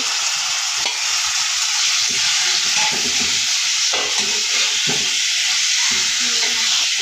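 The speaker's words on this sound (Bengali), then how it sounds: "আর এভাবে কিন্তু কিছুক্ষণ ভেজে নিবে" Chicken fries with ground cumin and other spices in a pan, giving a loud, steady close-up sizzle. Stirring scrapes and knocks come through intermittently, and there is no talk.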